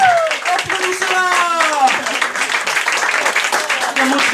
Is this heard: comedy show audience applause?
yes